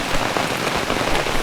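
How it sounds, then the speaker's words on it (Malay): Heavy tropical rain pours steadily onto surfaces outdoors in hilly Malaysian countryside, a dense, loud, unbroken hiss with no voices. "sebab hujan lebat hujan lebat"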